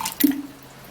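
A little water is poured into a blender jar with ginger in the kitchen, a short splash and drip that quickly fades to quiet.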